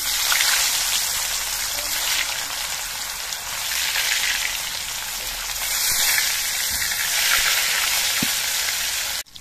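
Pieces of shol fish frying in hot mustard oil in a kadai, a steady bright sizzle and crackle that swells and eases in waves, close and continuous with no talking.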